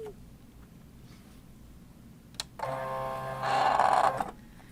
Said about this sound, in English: once it's on my mat, I'll just feed it into my machine